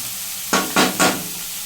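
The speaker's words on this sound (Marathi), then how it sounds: "कांदा मस्त भाजून घ्यायला लावला थोडासा." Finely chopped onions for pav bhaji being fried in a pan, three quick stirring sizzles in a row, close and loud over a faint steady background hiss.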